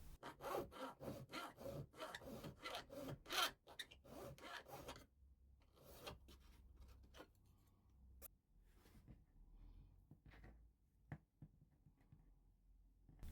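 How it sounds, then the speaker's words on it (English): A hand file scrapes the ends of a metal ring strip in quick, close back-and-forth strokes, then slows into sparse, quieter rasps and taps. "I'm just filing the ends lightly here."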